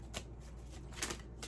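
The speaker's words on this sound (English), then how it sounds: "I'll keep shuffling." A deck of tarot cards being shuffled, with a few quick crisp riffling bursts close by, fairly quiet, and no talking.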